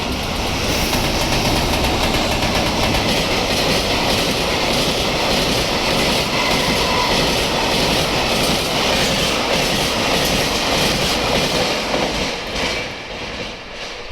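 A freight train hauled by two EH200 electric locomotives passes at high speed on the Shinonoi Line, a loud, close, continuous roar with rhythmic wheel clatter that stays steady before easing off at the very end.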